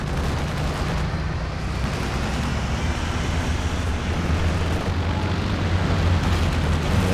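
A strafing run in the Company of Heroes 2 strategy game, a dense continuous rumble of explosions and gunfire with a heavy low roar and no clear gaps.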